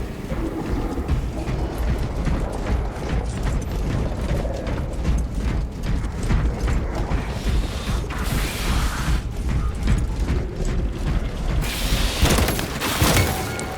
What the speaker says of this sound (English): Swapping magazine.